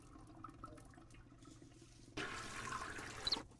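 Toilet flushing in the adventure video game Deponia: a sudden rushing water whoosh that holds steady for just over a second and then cuts off, heard faintly over quiet background sound with no talking.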